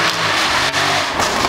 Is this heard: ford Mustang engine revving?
yes